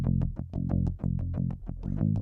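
Modded P-bass by Charlie Kilgore, recorded DI through an Ampex 350, plays a steady gritty line of about a dozen plucked notes with a slightly distorted edge, loud and close with no voices.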